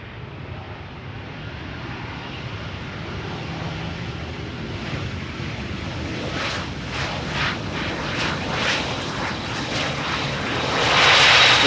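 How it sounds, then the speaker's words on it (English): An SAS Bombardier CRJ900 jet airliner, 15 years old, arriving from Copenhagen at Schiphol's Polderbaan, with a steady broadband engine roar that swells and grows louder toward the end as it nears, amid light wind noise. "CRJ 900 arriving from Copenhagen."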